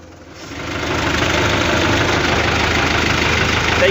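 A tractor engine runs in a village, its steady, loud, close-up rumble starting softer and quickly building to a constant idling throb that holds for the rest of the clip.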